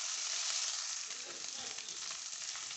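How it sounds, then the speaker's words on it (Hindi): Garlic and ginger frying with onions in a pan for a dhaba-style aloo gobi salan, a steady close hiss and sizzle that holds without a break. "ये लहसुन अदरक जो है ना ये भी फ्राई हो चुका है"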